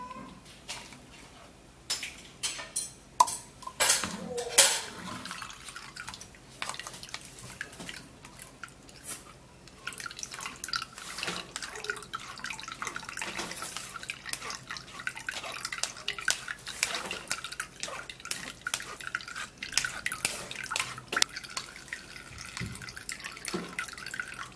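Blended watermelon juice strained through a sieve, a soft wet trickling and dripping with light clinks of a spoon or sieve against a bowl, close and fairly quiet, continuing throughout without talk.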